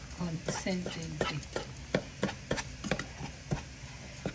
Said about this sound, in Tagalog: Haluin lang natin ang haluin hanggang sa makuha natin ang ating consistency